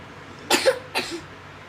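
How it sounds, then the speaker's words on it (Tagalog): A baby coughs twice, two short raspy bursts about half a second apart, close by in a quiet room. "ba't naman inuubo ang baby?"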